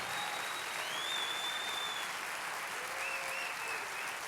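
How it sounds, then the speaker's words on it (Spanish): A church congregation applauds steadily during a worship service, a dense, sustained wash of clapping from a large crowd with faint whistles or cheers over it throughout. "Vamos, dale ese aplauso al Rey de Reyes"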